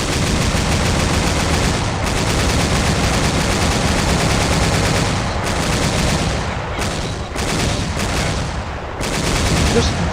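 Heavy, sustained weapons fire in a military video game, a loud continuous wash of overlapping shots and bursts with only a few short breaks, voices faintly mixed in.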